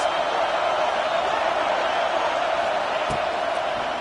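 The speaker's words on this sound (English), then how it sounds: "Listen to this crowd just shaking the girders of this place, trying to help their defense." A large stadium crowd at an American football game roars in a dense, sustained wall of noise, loud and unbroken, with a brief thud partway through.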